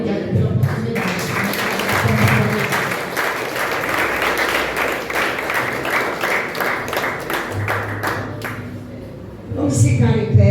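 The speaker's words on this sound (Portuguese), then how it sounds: "Tem que ser melhor essas palmas" A church congregation claps and applauds steadily throughout, a dense wash of hands with voices and music mixed in, swelling louder near the end.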